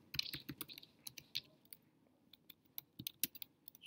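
Close, crisp keyboard typing while code is entered on a computer, a quick irregular run of key clicks with short pauses and a couple of louder keystrokes, no voices.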